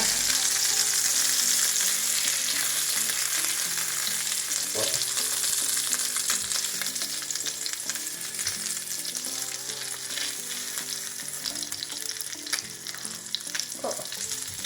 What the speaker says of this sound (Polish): Przenosimy na nagrzany tłuszcz. Smażymy 5 minut z jednej oraz z drugiej strony.